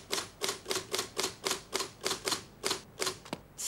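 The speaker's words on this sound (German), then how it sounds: "Aber der Herr Direktor hat schneller getippt." Rapid typing on a mechanical typewriter, about a dozen crisp, evenly spaced key strikes in a steady rhythm, close and clear with no talk over them.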